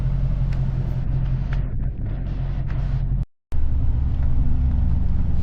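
A Dodge Challenger on a test drive, a steady low rumbling engine and road drone heard from inside, continuous apart from a brief dropout.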